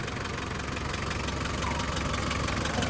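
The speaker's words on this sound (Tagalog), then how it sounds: "Ito pala yung andar ng ating 1 kz mga bossing." An overhauled Toyota 1KZ diesel engine, with new piston rings, engine block, cylinder head and main bearings, idles close by with a steady, even clatter and dense rattling hum throughout.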